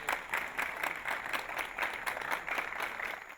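Warm applause from relatives, friends and coaches greeting returning Ingush pankration wrestlers at an airport, a steady crowd clapping at moderate distance that continues throughout.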